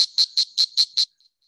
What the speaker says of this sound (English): you will hear this frog. I promise you, this is the strawberry dart frog, sometimes called the blue jeans frog.